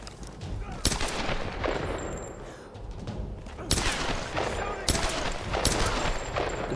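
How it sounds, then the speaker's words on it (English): Gunfire from shooting enemies in the 2013 Tomb Raider video game, with repeated loud bursts of shots over a steady game soundscape and a few sharp impacts. "I didn't realise I was actually shooting them"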